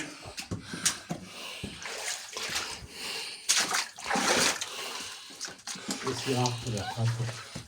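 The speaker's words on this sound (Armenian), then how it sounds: "Մեկ աղբյուր" Water from a spring inside a tunnel in Gavar splashes and pours steadily, close and echoing, with people talking over it toward the end.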